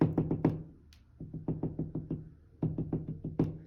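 A voice mimics a woodpecker with three quick runs of clipped, hollow knocks, close and steady, separated by short pauses.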